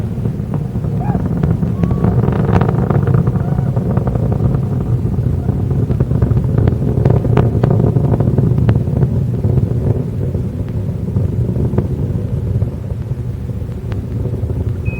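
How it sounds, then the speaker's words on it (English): Space Shuttle Endeavour's three main engines roar during the STS-49 launch as they throttle back up, a loud, continuous low rumble with wind buffeting that holds steady throughout. "Engines now beginning to throttle back up."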